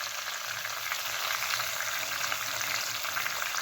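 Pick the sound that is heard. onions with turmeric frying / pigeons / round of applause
onions with turmeric frying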